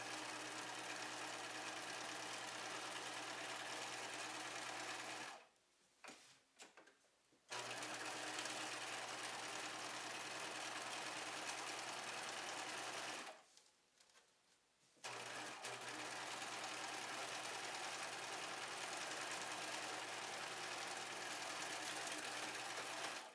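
Sewing machine stitching a fabric wallet just past the Velcro closure, a loud steady mechanical whir running continuously with two brief pauses where the needle stops before resuming.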